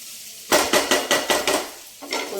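Broad beans and masala being stirred in a frying pan: several close, rhythmic scraping strokes of a utensil against the pan with a soft sizzle beneath, after a quiet start.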